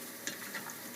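Peach pie filling with cornstarch and almond extract sizzles softly in a pan, a faint, steady crackle with a few small pops and no talking.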